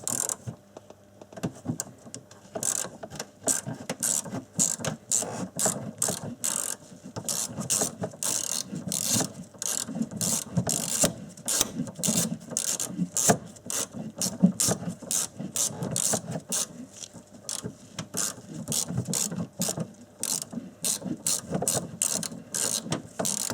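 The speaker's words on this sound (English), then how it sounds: "I'm actually going to make a double bit with a flexi." A ratchet driving a long Torx bit clicks in rapid, steady bursts while loosening a front bumper bolt on an Audi A6, close and continuous with no talking.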